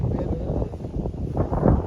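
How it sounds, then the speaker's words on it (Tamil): Wind gusts outdoors during fall in a Nova Scotia valley, a steady low rumbling rush buffeting the microphone with some faint rustling beneath. "காற்று எப்படி அடிக்குது பாருங்க."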